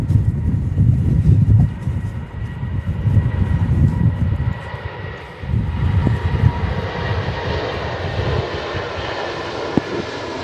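An airliner taking off at Manchester Airport in strong crosswinds gives a loud, sustained jet engine roar that rumbles on and slowly shifts in tone as it climbs away, with no talking over it.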